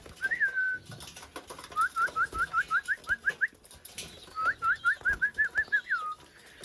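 Young racing pigeons at their loft give repeated short rising whistle-like calls in quick rhythmic bursts, three runs of rapid notes, clear and fairly close over a quiet background.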